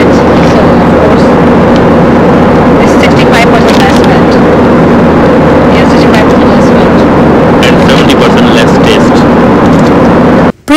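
An airliner cabin in flight from Dallas to Los Angeles, with a loud, constant broadband engine and air roar holding steady throughout and faint clicks and rustles above it.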